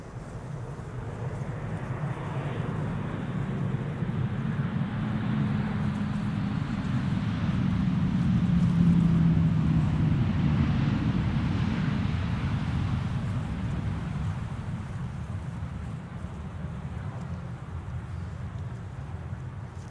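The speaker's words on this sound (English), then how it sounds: "That is a KLM A330-300 coming in from Bonaire" A KLM Airbus A330-300 airliner arrives at Amsterdam Schiphol in crosswind, its engine roar swelling to a loud, steady rumble near the middle before slowly fading, with wind noise throughout.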